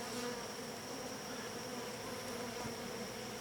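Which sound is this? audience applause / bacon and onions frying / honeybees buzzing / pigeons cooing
honeybees buzzing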